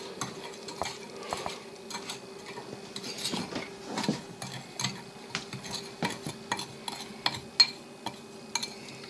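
A spoon stirs apple pie filling in a bowl for an old-fashioned apple pie, giving soft, irregular scraping and clinking strokes, close and fairly quiet.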